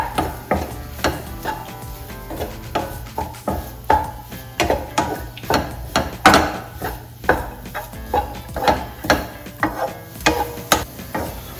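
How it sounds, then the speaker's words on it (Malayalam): Spatula stirring sautéed banana and grated coconut in ghee in a pan, with regular scraping strokes repeating about once a second, close and moderately loud over a low background hum. "2 മിനിറ്റ് ഒന്ന് ഇളക്കി കൊടുക്കണേ"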